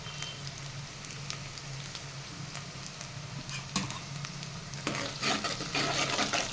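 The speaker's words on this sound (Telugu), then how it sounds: "మనకు ఉల్లిపాయ కూడా వేగుతుంది కదా" Onions with green chillies frying and browning in a pan for bagara rice, a steady close sizzle with stirring scrapes and crackles that grow busier and louder toward the end, no voices.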